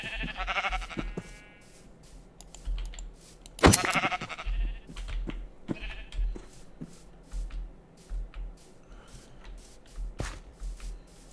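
Sheep bleat in a Minecraft-style video game, with one loud close bleat among fainter ones, scattered over soft shuffling footsteps and small game clicks.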